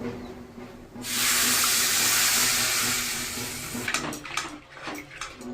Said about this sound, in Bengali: আলুটা ভাজা হয়ে গেছে, এখন আমি জল দিয়ে দিচ্ছি।